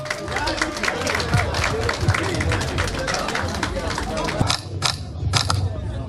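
Audience applause and crowd noise at an album release party, a dense sustained wash of clapping with voices mixed in, a few sharper bursts near the end.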